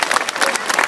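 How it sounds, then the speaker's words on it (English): Brief burst of audience applause for a veterinary team from Fitzpatrick Referrals, dense clapping from a crowd lasting under a second. "So I'll give them a round of applause."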